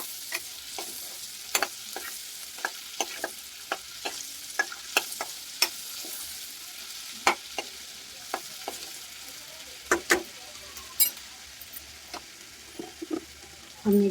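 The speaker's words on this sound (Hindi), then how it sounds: "बटर को मेल्ट कर लीजिए अच्छी तरह से।" Butter melting in a pan for matar paneer, crackling and sizzling softly with scattered sharp pops and occasional spoon-stirring clicks, steady and close with no voices.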